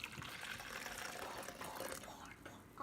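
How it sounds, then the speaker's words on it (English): Brewed coffee being poured into a blender while making keto coffee, a steady liquid splash and trickle running continuously and fairly close for a few seconds, with faint background noise. "All right, so I brewed the coffee. I'm gonna pour this"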